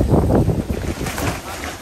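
Strong gusting wind at a lakeside campsite in Cavinti, Laguna, a loud rumbling roar buffeting the microphone, heaviest at the start and easing slightly.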